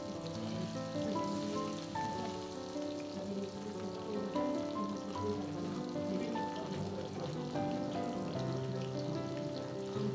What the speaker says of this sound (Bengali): এই তো গরম গরম তেলে দেখেন ইলিশ ভাজা